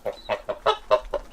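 Chickens on a homestead cluck in a quick run of about six short, close calls at an uneven pace, fairly loud and clear with no voices.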